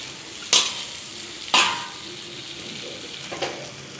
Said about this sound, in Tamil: இறாவை ஆட் பண்ணிவிட்டு நம்ம நல்லா அதை கிண்டி விடணும்.